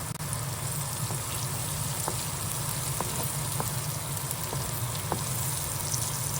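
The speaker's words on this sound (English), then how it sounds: "Everything is looking nice and fried up." Guyanese bora frying in oil gives a continuous close sizzle, dotted with small pops and crackles at irregular moments, with no talk over it.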